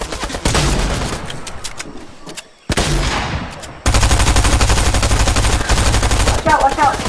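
Rapid bursts of automatic gunfire from a battle-royale video game firefight, loud and near, with sustained fusillades after a brief lull and scattered single shots mixed in.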